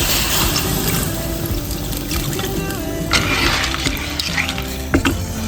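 Water added to a pan of stir-fried clams in chili, garlic and sauce, giving a close, continuous trickling pour with some sizzle, with no speech.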